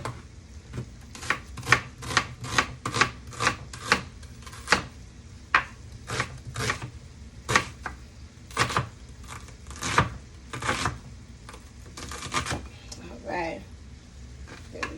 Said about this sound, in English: Cut our onion here.